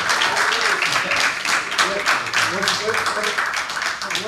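Applause from an audience at an evening town committee meeting, a steady wash of many hands clapping at moderate loudness that fills the whole moment, with a hint of voices mixed in.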